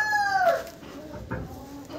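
A hen clucks and squawks nearby on a chicken farm, a couple of short calls with a rising cackle over quiet farmyard background.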